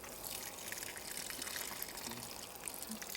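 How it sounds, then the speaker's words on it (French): Freshly planted Triple Crown mulberry cuttings being watered: a steady, continuous splash and patter of water, close and even throughout, with no talk. "Un petit coup d'arrosage"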